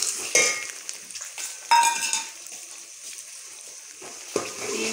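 Onions frying in a pan with garlic, ginger and green chili paste just added, giving a light sizzle with stirring clatters and a few louder scrapes, close and moderately loud, with no one talking.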